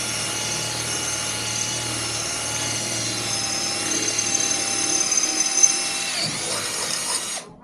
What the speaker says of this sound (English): So I'll drill a hole,